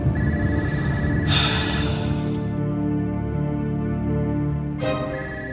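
A mobile phone rings with a bright, repeating electronic tone, loud and close, going on steadily with nobody answering it.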